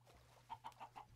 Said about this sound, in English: This is awesome, because now we've got a chicken.